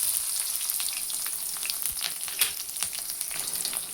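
Sliced onions frying in a hot tempering of mustard seeds, cumin and urad dal, a steady crackling sizzle with fine popping throughout, fairly quiet and close, with no talking.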